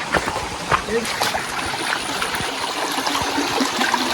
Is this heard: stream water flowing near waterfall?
yes